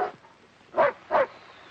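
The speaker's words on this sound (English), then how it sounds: "Police dog." A police dog in a 1945 film gives two short, gruff barks close by, spaced about half a second apart, against a quiet background.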